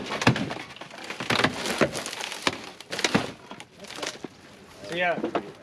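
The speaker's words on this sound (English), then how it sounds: "showing you guys cutting these posts with these stamped aluminum, kind of how they react" A hydraulic rescue cutter shears through the stamped aluminum roof posts of an electric vehicle during a roof-removal extrication, giving a run of sharp cracking crunches and snaps, with people talking nearby and a brief whine near the end.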